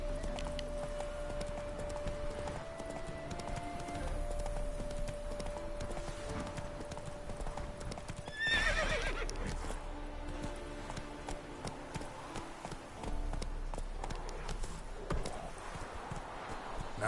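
Roach, the horse in The Witcher 3 video game, gallops with steady clip-clop hoofbeats under a constant musical bed, with a brief louder burst partway through.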